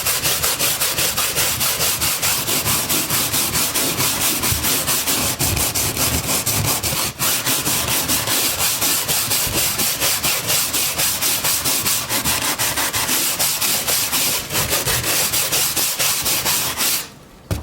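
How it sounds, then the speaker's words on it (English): Coarse 50 grit sandpaper rubs over model road paving tape from Woodland Scenics, a loud, continuous scratchy sanding with quick, even back-and-forth strokes that run without a break until a short pause near the end. "Right here is a 50 grit sandpaper."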